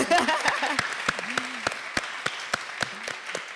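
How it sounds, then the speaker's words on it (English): Applause breaks out for an author whose new book has just been published, a thin scattering of sharp individual claps over a steady wash of hand noise, with voices murmuring underneath. "Can we give her a round of applause?"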